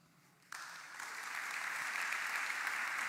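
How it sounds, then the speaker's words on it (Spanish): Congregation applause at a Sunday church service builds from a sudden onset into steady, swelling clapping that fills the room, with no talk over it. "Puedes darle un aplauso al Señor."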